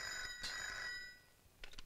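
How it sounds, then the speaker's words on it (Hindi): An old telephone rings with a bright electronic trill, first a long burst, then a pause, then the start of a second ring. No one speaks over it. "मधु, तुम्हारी माँ जी का फोन।"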